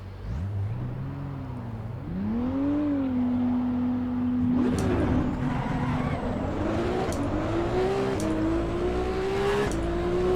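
Ferrari 296 GTB engine lapping Suzuka in Assetto Corsa EVO, a loud, steady drone that rises and holds in pitch through upshifts, with a brief throttle change midway and continuous engine tone throughout.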